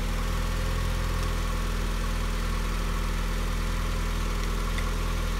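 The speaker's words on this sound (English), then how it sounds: "Go ahead and start the car now." A Mazda Miata engine idles steadily with the radiator cap off, a loud, continuous low rumble with a constant hum and no change in pitch throughout.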